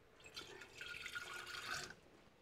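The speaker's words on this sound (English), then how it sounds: "Now I wash the jar." Thin stream of kitchen tap water runs and drips while a jar is rinsed at the sink, faint and close with small splashing variations.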